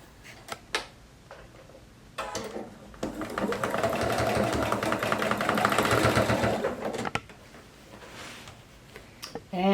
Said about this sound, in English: now I'm going to start stitching off of the fabric, coming right down across the binding